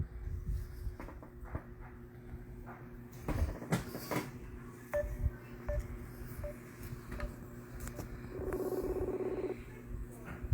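A telephone call is placed: short dialing tones, then a steady buzzing ring tone near the end, over room noise with scattered knocks and handling sounds.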